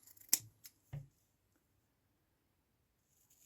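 Scissors snip through a strip of felt for a knitted hair clip, three quick close cuts in the first second followed by near silence and faint rustling at the end.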